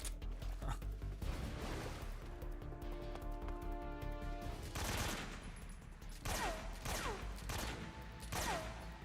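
Automatic AK rifle fire in Metal Gear Solid 3 rattles in steady repeated bursts under game music and effects, with a few sharp separate shots toward the end.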